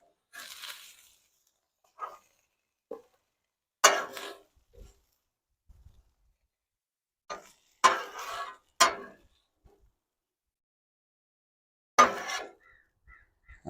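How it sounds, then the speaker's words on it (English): A knife chops shaved steak on a Blackstone griddle in sparse, sharp metallic clacks and scrapes, some single and some in quick pairs, with long silent gaps between them. "I'm going to take that steak off of that Blackstone and we're going to chop it up"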